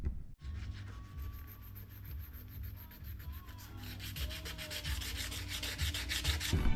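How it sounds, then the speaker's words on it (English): Paint being chipped and sanded off a part of a 1998 Cobra in a garage, heard as continuous close rubbing and scraping that grows slightly louder and denser toward the end. "So we're gonna start working on chipping away the paint, and then I'm gonna sand it"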